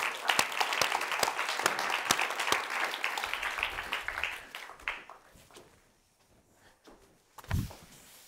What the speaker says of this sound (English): Please, a nice warm round of applause.